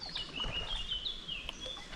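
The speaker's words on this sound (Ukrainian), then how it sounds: "Слухайте, як птахи співають." Faint, high birdsong chirps and trills drifting in over a quiet riverside background on the Stokhid River in Ukraine, somewhat distant.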